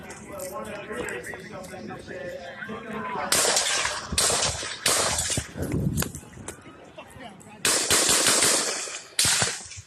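Loud bursts of rapid gunfire crackle in several volleys, with quick automatic shots and short gaps between them.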